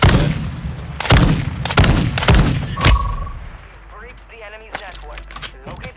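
Rapid gunfire in a video game played on a Dell G laptop, several loud sharp bursts of shots in quick succession, then fading to quieter in-game effects, with a voice talking faintly.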